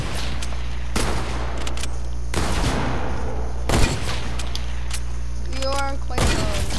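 Several loud, sharp hunting rifle shots ring out in a first-person shooter video game, spaced a second or two apart amid game background noise and chatter from players.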